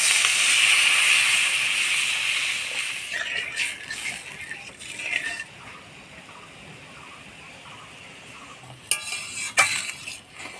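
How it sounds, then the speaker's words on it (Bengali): Water goes into spice paste frying in a pan, a strong hiss and sizzle at first that fades to a quieter simmer, followed by a few stirring scrapes and clinks near the end. "এবার জল দিয়ে দিব।"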